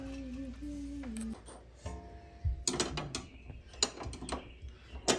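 Ratcheting metal clicks and clanks come as the bottom ring of a coilover spring is spun on a 2022 Honda Accord 2.0T. Uneven close taps and scrapes follow a brief tonal whine, with no talking.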